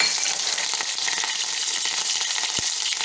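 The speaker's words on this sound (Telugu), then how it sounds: "ఆయిల్ వేడైంది. సో ఇప్పుడు ఆయిల్లోని పచ్చిమిరపకాయలు" Green chillies frying in hot oil for a vankaya pesarapappu dish: a continuous, close, bright sizzle and crackle throughout, with a sharp pop near the end.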